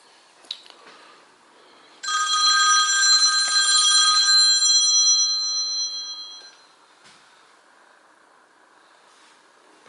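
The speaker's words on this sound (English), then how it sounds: "that phone that was ringing" Telephone ringing indoors in a shop or warehouse where shelving is being installed, a loud electronic ring lasting about four seconds and then fading out, heard alone with faint background noise.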